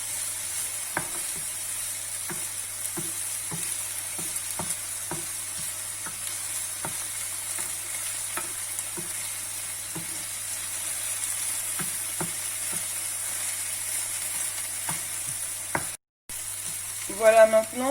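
Onions sautéing in a pan, a low steady sizzle with a regular run of soft spoon taps and scrapes, a brief dropout, then a short louder clatter at the end.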